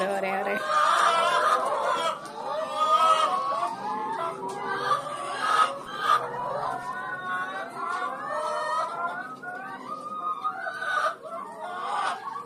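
A flock of chickens on a poultry farm clucking and squawking continuously, dense overlapping calls close by with a rooster-like cry mixed in, a faint voice underneath.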